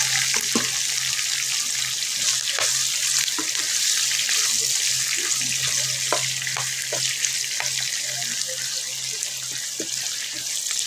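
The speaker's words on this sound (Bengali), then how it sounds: "এখন আমি পেঁয়াজ কুচি দিয়ে দিব একটা, দিয়ে আবার একটু নেড়ে দিব" Chopped onion sizzles and frying in a pan for restaurant-style chilli chicken, with a steady hiss and scattered scraping clicks of stirring, close and continuous without talk.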